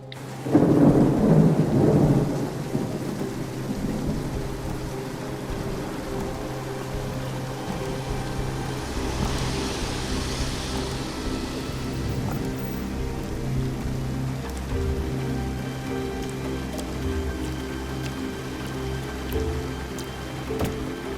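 Heavy rain pours steadily and a deep rumble of thunder rolls loudly at the start before settling into a constant downpour.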